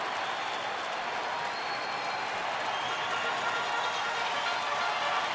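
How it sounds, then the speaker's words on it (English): A baseball stadium crowd comes alive in the fifth inning, many fans on their feet, cheering and applauding in a broad, steady roar that holds at an even level for the whole stretch. "Crowd coming alive. A lot of folks on their feet now."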